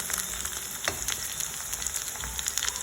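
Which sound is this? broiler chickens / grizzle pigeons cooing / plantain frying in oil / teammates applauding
plantain frying in oil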